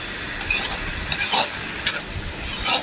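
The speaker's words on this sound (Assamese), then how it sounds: "সেইটো অলপমান পানী দি মানে মছলাটো ভাজি দিলোঁ" Chicken masala with a splash of water frying in a pan, a steady close sizzle with a few brighter scraping stirs and hisses breaking through.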